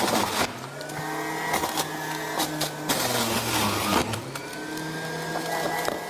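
A juicer whirs steadily as carrots are fed in, a continuous motor drone with shifting harmonic tones and occasional louder grinding bursts when the carrots hit the extractor.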